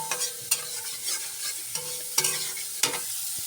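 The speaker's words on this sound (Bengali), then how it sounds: "এটাকে এখন কষাবো হালকা হালকা করে, মশলাটাকে কষিয়ে তারপর পনিরগুলোকে দিয়ে দেবো" A spatula stirs spice paste sautéing in a pan before paneer goes in, giving a steady sizzle with repeated scraping strokes at an even pace, close and clear with no speech.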